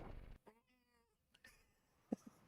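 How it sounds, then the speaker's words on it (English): A pet kitty gives one short, soft meow indoors, very faint and close, followed by small quiet knocks against a near-silent room. "She's got a cute little meow."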